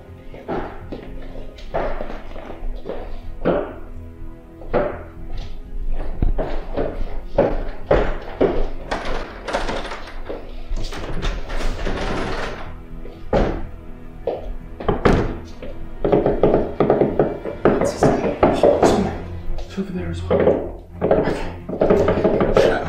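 Repeated wooden thunks and knocks at a door, loud and close, coming in irregular bursts for over twenty seconds with almost no talking.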